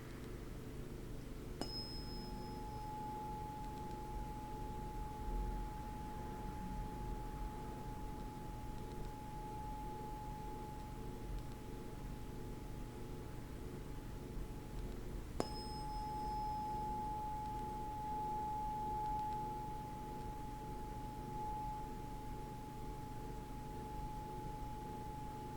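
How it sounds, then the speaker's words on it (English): An 852 Hz Solfeggio tuning fork rings as a pure, steady sustained tone, struck twice with a faint click at each strike and a long even decay, alone over quiet background hum. "852 Hertz tone."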